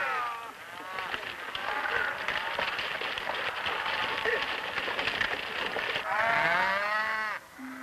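Cattle on a prairie ranch in Canada's Prairie Provinces give loud, drawn-out moos that overlap one after another, with a steady bed of noise beneath them.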